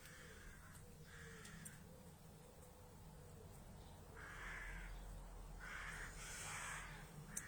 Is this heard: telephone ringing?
no